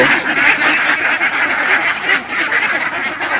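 A flock of ducks being raised on feed quacks loudly and continuously, many overlapping nasal calls close by with no pause.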